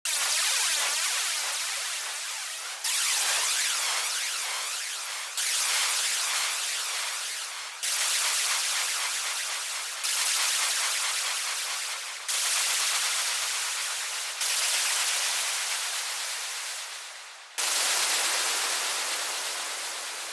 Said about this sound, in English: now we've got a nice, interesting, and very wide white noise effect